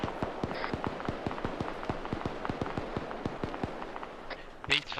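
Mortar rounds launched in Arma 3 during a mortar section training session, a steady run of sharp, evenly spaced thumps with a louder burst near the end, amid continuous background game noise.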